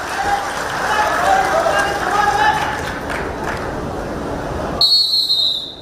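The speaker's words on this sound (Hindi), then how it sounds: "मैं दर्शकों से अनुरोध एक बार जोरदार ताली मारना स्वागत पहलवानों को" Crowd of spectators at a state-level wrestling competition on Nag Panchami in Gorakhpur applauding to welcome the wrestlers, a loud, dense clatter of clapping mixed with a busy crowd, ending in a brief whistle-like tone.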